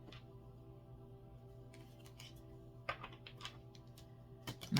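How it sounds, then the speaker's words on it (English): Tarot cards shuffled in small batches, a soft papery riffle and tap that comes in a few brief bursts over a low steady hum, fairly quiet and close. "I'm going to shuffle by threes here."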